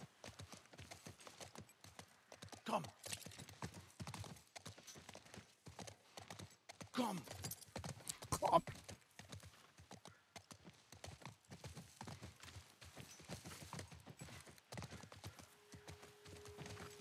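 A horse's hooves clip-clop steadily in The Last of Us Part 1 as it is ridden at an even walking rhythm, with faint background game sounds throughout.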